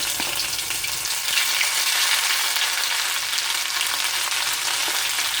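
Garlic fries in hot oil with cumin, giving a dense, steady sizzle and crackle that carries on evenly throughout, with no talking.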